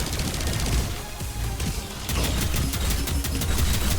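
Continuous gunfire from the first-person shooter Wrack: Reclamation during a tough fight, a dense rattling barrage that intensifies in the second half, with rapid regular shots layered over game noise.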